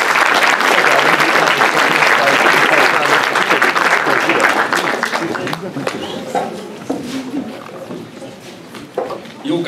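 Audience applause at a climate congress, a loud sustained burst of clapping that gradually thins and fades toward the end, with scattered claps and a few voices remaining.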